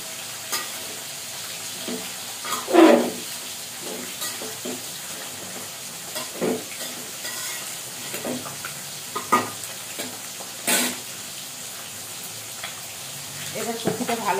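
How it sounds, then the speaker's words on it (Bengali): Cabbage sizzles in a hot pan, a steady close frying hiss with scattered scrapes and clinks of a spatula stirring at irregular intervals throughout. "এখানে বাঁধাকপিটাও ভাজা হয়ে গেছে"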